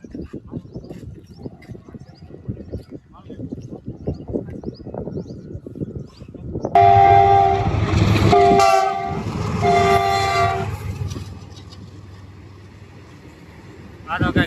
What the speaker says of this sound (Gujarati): ટ્રેન આવતી છે ને દાદા?